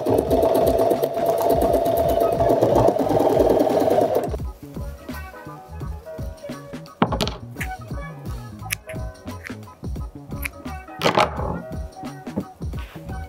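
Sewing machine stitching along the edge of a patch on a garment elbow: a dense, steady run of rapid stitching for about four seconds, then slower, intermittent clicks and short bursts of stitching as the fabric is guided.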